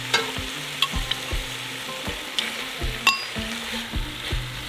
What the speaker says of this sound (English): Now I'm gonna keep sauteing them until the meat is cooked well.